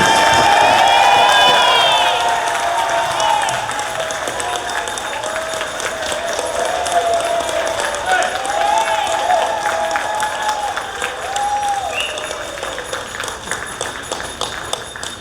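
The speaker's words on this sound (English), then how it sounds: "A round of applause" Loud sustained applause and some cheering from a crowd at a Kiwanis convention business session after a resolution passes, strongest at the start and then easing into a steady patter with a few voices calling out.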